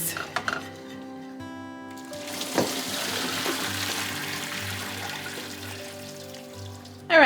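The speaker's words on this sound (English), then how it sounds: "All right, we got our noodles drained." Cooked spaghetti is poured into a colander in the sink, water rushing and splashing steadily for several seconds after a few pot clanks, close and fairly loud with no talking.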